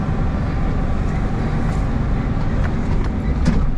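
A Suzuki Jimny fitted with new shocks and new tires drives on a beach, giving a loud, steady broadband rumble of engine, wind and tire noise that never lets up.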